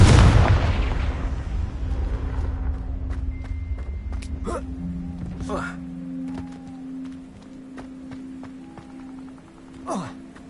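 The Confringo fire spell in Hogwarts Legacy lands with a loud booming blast that rolls off and fades over several seconds, followed by softer magical pings, whooshes and a sharp flare near the end.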